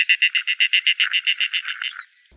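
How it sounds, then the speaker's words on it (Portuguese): A limpkin, the caramujeiro, gives a loud, close run of about a dozen evenly spaced squawking notes that sound like hoarse laughter. The notes fade and blur together toward the end, then stop abruptly. "O som do caramujeiro parece alguém rindo aí"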